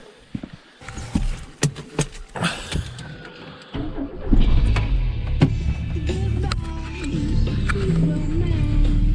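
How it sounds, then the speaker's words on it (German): A Maserati car starting off and driving, its low engine rumble rising after a few seconds and holding steady, with sharp clicks and knocks before it and people talking over it. "Schön mit dem Auto zur Arbeit fahren"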